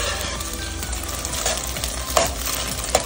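Egg sizzles and fries in a pan for egg fried rice, with scraping stirs and a couple of sharp clinks of the utensil against the pan over a steady crackle.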